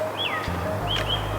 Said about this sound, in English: You hear the birds chirping, everything got life,